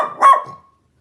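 A pet dog named Sophie gives a single short bark close by, a sharp burst that fades quickly into silence.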